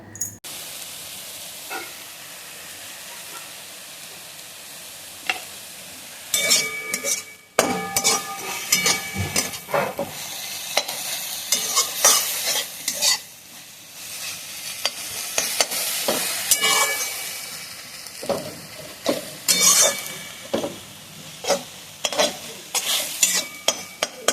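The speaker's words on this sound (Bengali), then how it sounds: "সুন্দর করে এরকম ভাজ ভাজা হয়ে গেলেই নামিয়ে নেব পাট শাকটা" Jute leaves (pat shak) with chopped green chilli fry in a pan, giving a steady sizzle broken by rattling, scraping stirring strokes that grow busier and louder partway through; no one talks.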